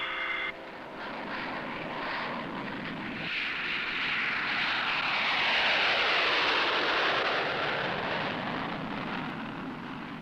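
A propeller military transport carrying an Army field hospital unit takes off from McCord Air Force Base, Washington, its engines roaring loud and steady, building then holding a broad droning swell with no talking.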